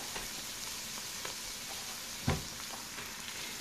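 Shrimp frying in a pan with wilted escarole and browned garlic gives a steady, faint sizzle, broken by one brief louder clatter partway through.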